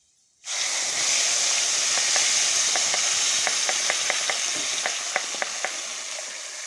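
Tomato paste sizzles and hisses loudly as it hits hot oil in a pan while cooking a vegetarian cauliflower masala, with scattered small pops and crackles throughout.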